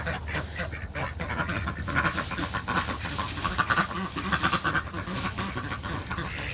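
A trapped duck keeps up a stream of rough, honking quacks, close and fairly loud, with repeated calls over a low background rumble.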